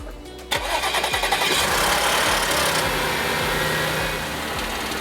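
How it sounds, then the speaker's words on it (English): A salvaged 2012 Audi S5 with bad suspension cranking briefly and catching, then settling into a steady loud idle that eases slightly toward the end, heard close with no talk. "We're gonna give it a quick start."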